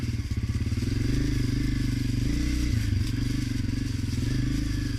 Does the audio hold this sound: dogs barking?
no